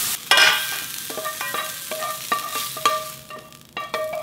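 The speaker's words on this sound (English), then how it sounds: "we keep stir frying" Vegetables with onion stir-fried in a pan for japchae: a steady sizzle with repeated scraping and clinking of a utensil against the pan, close and fairly loud.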